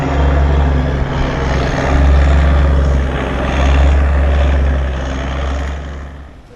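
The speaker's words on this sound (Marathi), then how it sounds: "fort Kochi YP passenger ferry boat आपल्या समोरून सुटलेली आहे आवाज तर एखाद्या हेलिकॉप्टरसारखा येतो आहे" A passenger ferry boat's engine pulls away from the Fort Kochi jetty, a loud, steady, low throbbing drone with a helicopter-like beat that holds close and strong throughout, with no talking.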